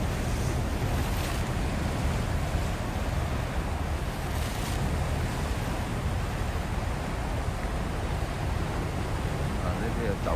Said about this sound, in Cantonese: 嗰啲浪好勁啊